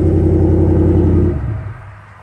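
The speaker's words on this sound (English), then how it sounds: "Dual exhaust." A 2017 Ram Rebel pickup truck rumbles loudly through its dual exhaust, a steady deep engine drone held briefly before fading quickly as the revs drop off.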